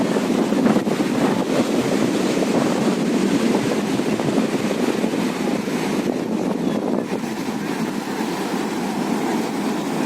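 Steady wind buffeting the microphone over a continuous wash of surf on the beach at Puri, loud and unbroken throughout with no voices.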